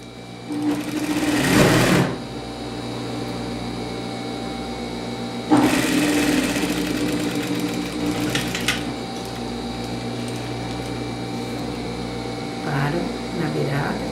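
A sewing machine stitching a double-faced coat runs in short bursts of rapid, close whirring, with quieter handling and pauses in between, and a voice speaking softly in places.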